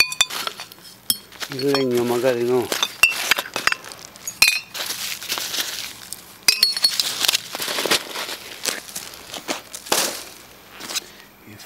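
Glass items are sorted from household rubbish for recycling, giving scattered, irregular clinks and rattles at close range, with a person speaking in between and over the clatter.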